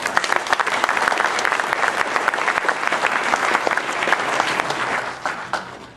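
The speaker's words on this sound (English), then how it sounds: "So please give them a round of applause." Loud, sustained applause from a crowd at a hall of fame induction dinner, dense clapping that fills the whole stretch and tapers off slightly at the end.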